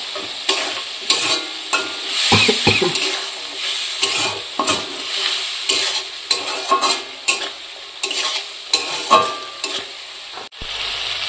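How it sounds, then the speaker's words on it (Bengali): Spice paste for chicken curry fries and is stirred in a pan, a little water added to keep it from sticking; close, steady sizzling with repeated scraping strokes of the spoon, no talking. "ভালো করে এটা মশলাটা আমি কষিয়ে নিচ্ছি।"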